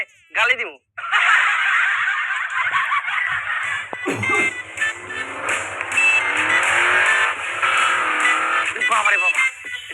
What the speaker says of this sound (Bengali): বাবা রে বাবা, এটা কি গাড়ি? ও এটা ওডি